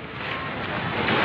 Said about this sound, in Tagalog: Ngayon po ay mas lumakas pa yung hangin kaysa kanina.